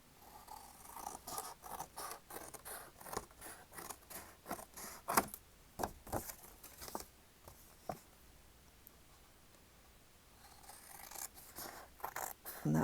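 Scissors snip through a paper insert to trim it for a thick journal, giving a run of close, crisp, irregular cuts that thin out into quiet rustling before a few more snips at the end.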